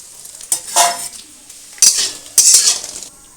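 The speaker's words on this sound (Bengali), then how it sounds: "কটা পাঁপড় ভেজে নিই" Papad frying in a pan, three separate loud bursts of crackling hiss and clattering utensil against metal, close and strong, with quiet gaps between them and no voices.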